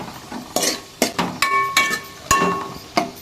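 Black and brown raisins frying in hot ghee, puffing up with a steady sizzle, broken by several sharp clinks and scrapes of a spoon against the pan.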